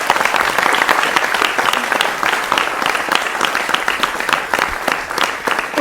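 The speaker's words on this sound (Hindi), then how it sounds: "जोरदार तालियों के साथ स्वागत करें।" A large studio audience at a TV news panel breaks into sustained applause, many hands clapping in a dense, continuous patter that stays loud throughout.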